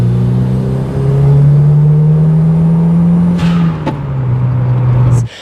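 A 300-horsepower Toyota MR2 from the 1990s pulls hard from inside the cabin, its engine note climbing steadily, then dropping briefly with a gear change before rising again, loud and close.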